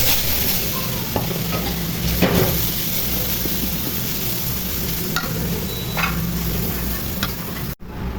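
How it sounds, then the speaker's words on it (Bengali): Onions frying in hot oil for an egg curry, a dense steady sizzle with scraping stirring strokes and a few light ticks of a spatula, close and continuous without talk. "তেল গরম হয়ে গেছে, এখন পেঁয়াজ ভেজে নিব।"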